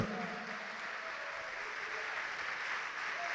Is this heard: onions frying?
no